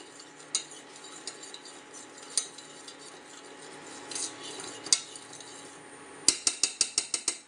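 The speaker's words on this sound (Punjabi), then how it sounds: "ਪੇਸਟ ਨੂੰ ਆਪਾਂ ਸ਼ੈਂਪੂ 'ਚ ਚੰਗੀ ਤਰ੍ਹਾਂ ਮਿਕਸ ਕਰ ਲੈਣੇ ਆ" A utensil clinks against a container while stirring paste into shampoo for a homemade tile and washbasin cleaner, with scattered soft taps and then a quick rhythmic run of sharp clinks near the end.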